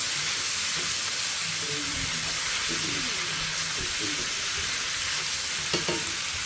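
Ground taco meat fries in a hot pan until browned, a loud steady sizzle with occasional scrapes and stirring clatter over it.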